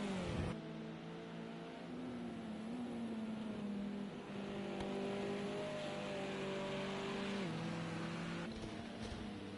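Racing car engine at Imola in a sim race, a sustained high whine with steady pitch and a few gear-shift steps up and down, loud and continuous.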